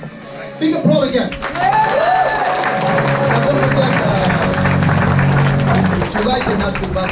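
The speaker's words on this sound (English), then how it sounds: "Big applause again." An audience at an Amway success seminar claps and cheers, a dense burst of applause rising quickly and holding steady, with someone speaking over it.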